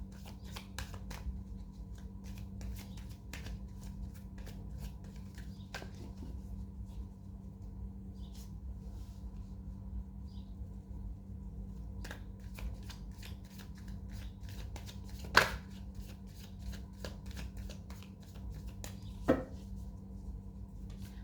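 A deck of tarot cards being shuffled and handled, with a steady soft rustle of sliding cards, a few sharper slaps near the end, and a low constant hum underneath, with no speech.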